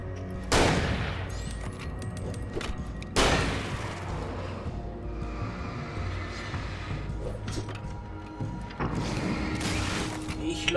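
Gunfire in the video game Alan Wake, with three loud bursts of shots spaced across the stretch over a busy, rumbling game soundscape.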